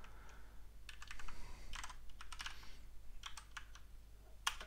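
A computer keyboard is typed on in several quick bursts of clicking keystrokes over a low steady hum, quiet and close, with one sharper key strike near the end.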